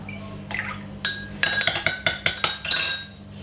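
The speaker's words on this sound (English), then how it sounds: "Then we're going to put a teaspoon of apple cider vinegar." A spoon clinks against glassware as a teaspoon of apple cider vinegar goes into a homemade drink: a run of sharp, bright taps, sparse at first, then quick and close together before fading.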